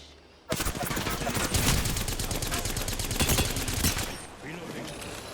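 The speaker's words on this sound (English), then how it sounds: "The enemies are shooting at me." Dense bursts of rapid gunfire from enemies in the battle royale video game Apex Legends, loud and continuous with overlapping automatic and single shots, easing off near the end.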